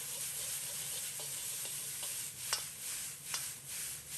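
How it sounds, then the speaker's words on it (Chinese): Celery and oil-slicked shredded pork tossed in a hot wok: steady close sizzle and frying hiss with a couple of sharp spatula scrapes against the metal, no talking. "放入滑好油的肉丝，继续翻炒"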